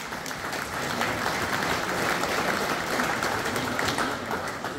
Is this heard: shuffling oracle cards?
no